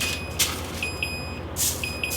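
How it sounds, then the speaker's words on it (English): An oven timer signalling that preheating is done beeps in a home kitchen, giving several short, high electronic tones in an irregular run over steady background hiss, with no voices. "My timer just went off"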